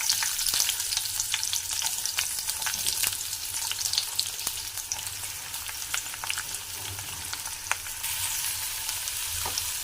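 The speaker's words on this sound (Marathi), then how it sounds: "आता कांदा छान परतून घेऊया गोल्डन होईपर्यंत" Sliced onion frying in hot oil with cinnamon stick and bay leaf, a steady close hiss and crackle with occasional spatula scrapes and stirring clicks, no voices.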